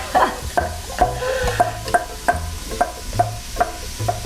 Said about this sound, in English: There's the sizzle. That's what I'm talking about.